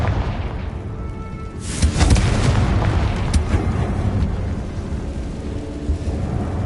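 Confringo blasting spell explosion in Hogwarts Legacy: a loud burst near two seconds, then a dense rumbling blast tail that lingers over steady low background noise, with no voices.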